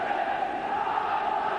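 Football stadium crowd at a Dundee United match, a continuous broad roar of many voices heard from a distance, steady and moderately loud with no single voice standing out.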